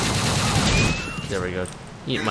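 A hand cannon fires in GTA IV with an Iron Man mod, a loud burst of rapid shots up front that fades as someone speaks over and after it.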